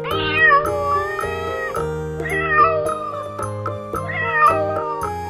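A cat meows in three drawn-out, wavering calls over a light children's phonics song backing, each cry loud and close.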